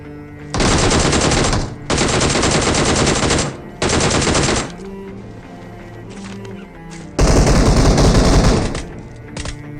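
Gunfire in a solo-versus-squad battle royale match, with three long loud bursts of rapid automatic fire in the first half, a quieter stretch, then another heavy burst near the end.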